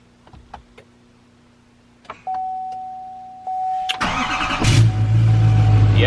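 A few clicks and a steady warning chime, then a 2020 L5P Duramax diesel pickup truck engine cranks, catches and settles into a loud, rumbling idle.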